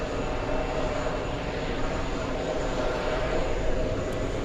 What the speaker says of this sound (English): Let's go for the big American Airlines 777.